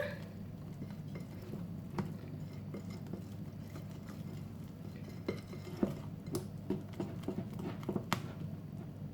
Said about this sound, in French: Je reprends ma pâte et j'y incorpore le chocolat. Je mélange bien ma pâte.